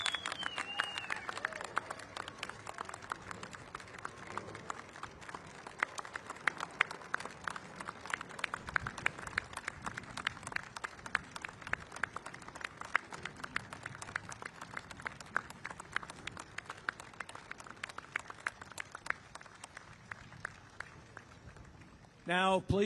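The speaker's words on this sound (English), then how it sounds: "One more round of applause for all our World War II veterans." Sustained audience applause honoring World War II veterans at a V-J Day commemoration held outdoors at the National World War II Memorial in Washington, D.C., with steady dense clapping running throughout and a brief burst of other sound at the very end.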